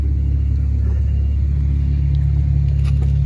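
A car rumbles steadily close by in a workshop setting, a loud continuous low engine drone with a faint rise in revs, no talking over it.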